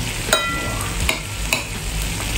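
Pork bistek with onions is stirred in a frying pan: three or four scraping strokes of the utensil cut through a steady, close sizzle.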